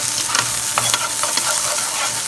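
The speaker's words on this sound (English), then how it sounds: "let's give our stir fry a stir" A snow pea stir fry with cauliflower rice sizzles loudly in a pan while being stirred, continuous frying hiss punctuated by quick clattering scrapes, close and without talking.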